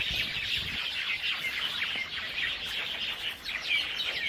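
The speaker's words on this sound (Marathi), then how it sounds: "या हत्ती घासात चिमण्यांचा आवाज बघा किती मोठा आहे" Dense chorus of sparrows chirping loudly and continuously in tall grass, a busy high twittering wall of calls with no voices.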